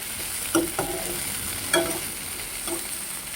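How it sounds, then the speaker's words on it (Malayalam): Curry cooks gently in a pan over a low flame, a soft continuous sizzle with a few faint clinks and stirring taps. "ഇനി നമുക്കിത് ലോ ഫ്ലെയിമിൽ ഒന്ന് മൂടി വെച്ച് വേവിക്കാം"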